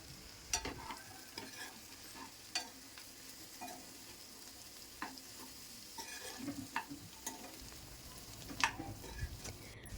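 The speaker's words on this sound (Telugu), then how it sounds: "ఆల్రెడీ కట్ చేసి పెట్టుకున్న బీరకాయలను అందులో వేసి బాగా వేయించుకోవాలి" Ridge gourd pieces frying with onions in a pan crackle and sizzle steadily, broken by repeated sharp clicks and scrapes of a spoon stirring against the pan.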